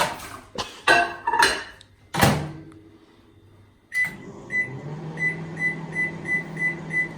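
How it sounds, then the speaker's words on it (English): A few clattering kitchen knocks, then a microwave heating a potato hums steadily with a low drone, broken by a regular series of soft beeps near the end. "let's take the potato into the microwave for about 5 minutes"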